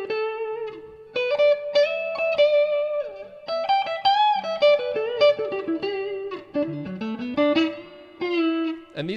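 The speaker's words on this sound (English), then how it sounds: "so this is just a little bit of reverb." A Glarry electric guitar plays a melodic line of single notes and short phrases, each ringing out with a reverb tail.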